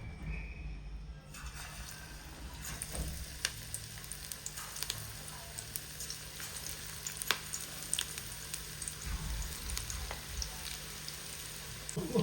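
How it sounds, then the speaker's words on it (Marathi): Spinach fritters (palak bhaji) fry in hot oil, a continuous soft sizzle and crackle with scattered pops, fairly quiet and heard on its own. "तर एक एक करून मी भजी ऍड करते आता."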